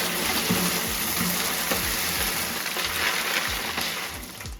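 Water and clay pebbles dumped out of a hydroponic Dutch bucket, a continuous close gush of pouring liquid with scattered low thumps and clatter of pebbles tumbling out over several seconds.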